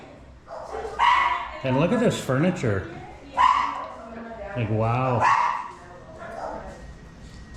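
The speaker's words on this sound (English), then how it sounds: "Sorry about the dogs barking there, guys. They got dogs all over the neighborhood here" Neighborhood dogs bark and yelp in short bursts, fairly close, mixed in with someone talking about a rental home in Oaxaca.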